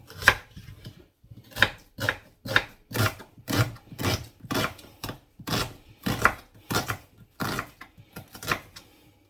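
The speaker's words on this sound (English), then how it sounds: "That is a brown onion, diced." A knife dices a brown onion on a cutting board in a caravan kitchen, about a dozen crisp, evenly spaced chops in a steady rhythm, close and clear with no talking.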